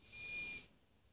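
A whistle built into a fire steel from a survival tin gives one short, clear, high-pitched blast that lasts just over half a second, then cuts off to near silence.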